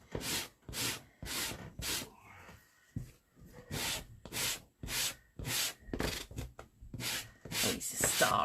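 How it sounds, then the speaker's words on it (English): Rhythmic back-and-forth sanding strokes across the edges of a small square wooden frame, close and steady, roughly a dozen rasping passes with brief pauses between them. "So I'm just going to sand those edges off a little bit,"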